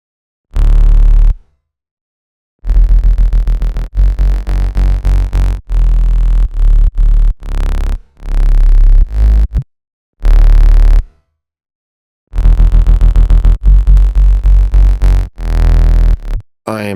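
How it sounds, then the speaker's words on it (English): Layered synthesizer tones in a remix: a sine wave and a saw oscillator through a diode filter play loud, rich sustained chords in choppy bursts separated by abrupt silences, with no voices. "I'm basically putting this sine wave on the sides, but bringing it back in the middle with this oscillator"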